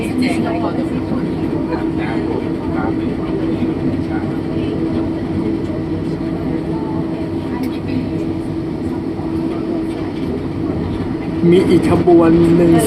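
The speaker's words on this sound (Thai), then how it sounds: "รถไฟก็เร่งความเร็วขึ้นนะฮะ ก็จะกระตุกแบบนี้นี่แหละครับ" A Bangkok Gold Line electric train rolls out of Krung Thon Buri station with a steady low rumble and hum from inside the car that swells louder near the end, while someone talks over it.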